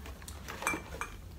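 A set of drinking glasses clinks lightly while being unpacked from a gift, a few quiet glassy taps and knocks close by against a faint room hum.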